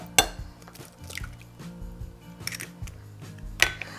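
Two eggs are cracked into a bowl in a home kitchen. Crisp shell taps come at the start and near the end, with soft wet drips and small clinks in between, close and fairly quiet.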